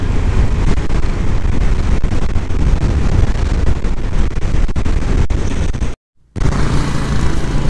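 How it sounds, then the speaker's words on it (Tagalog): Strong wind roars and buffets the microphone during a motorbike ride, a steady rushing noise that cuts out briefly near the end. "Napakalakas ng hangin dito mga tol."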